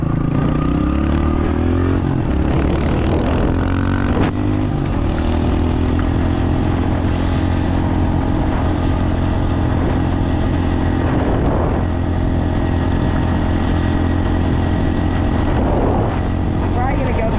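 A dirt bike engine drones loud and close as it rides down a road, a continuous rough motor tone with slight rises and falls in revs and heavy wind noise throughout.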